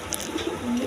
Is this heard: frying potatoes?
no